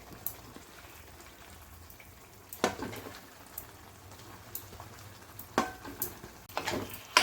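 Marinated chicken dropped into a hot pan for a tasty gravy chicken dish, giving a low steady sizzle with a few louder bursts of spattering and stirring, close by with no talking.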